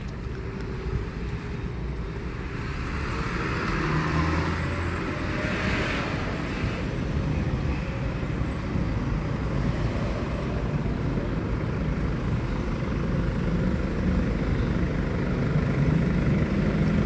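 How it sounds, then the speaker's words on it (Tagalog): Vehicles, jeepneys among them, roll past on a roadside near a waiting shed, making a steady broadband traffic rumble with a brief hiss around the middle. No one speaks, and the road noise continues throughout. "nakikita nyo guys yung yung mga dumadaan na jeep"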